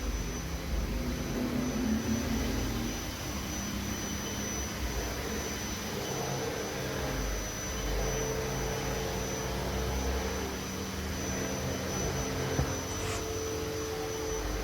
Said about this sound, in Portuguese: Essa é uma máquina CNC, de 3 eixos, X, Y e Z.